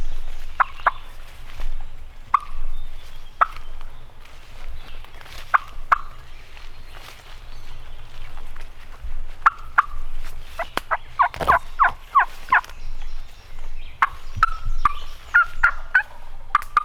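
A wild turkey gobbles repeatedly at a distance on a steep, wooded slope, short rattling bursts spaced through the clip and clustering toward the end, with no talk over them.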